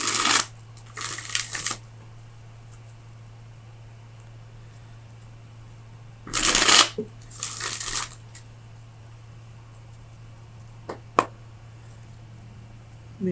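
Tarot cards are shuffled in a few short bursts of riffling and rustling, close and clear over a quiet background hum, with a couple of faint taps later on.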